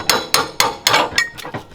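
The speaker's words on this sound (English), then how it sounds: "Stanley makes a dang good hammer" A Stanley hammer strikes in a run of six sharp, close blows, the first four evenly spaced and loud, the last two quicker and lighter, with no talking over them.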